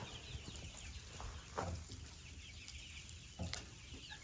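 Chickens cluck faintly outdoors during sleet and snow, a few soft scattered clucks sitting under a steady hiss of falling precipitation.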